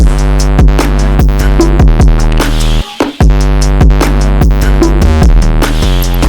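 A looping electronic drum beat with steady kicks and hits over sustained low tones, loud and continuous, with a brief dropout near the middle.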